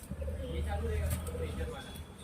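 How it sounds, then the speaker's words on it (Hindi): German beauty homer pigeons in a Mumbai loft coo with soft, low, throaty calls under someone talking nearby. "फैजू भाई माशाल्लाह बहुत ही खूबसूरत कबूतर है।"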